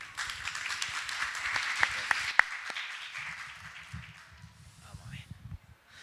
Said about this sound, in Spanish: Un aplauso, los dejamos con él.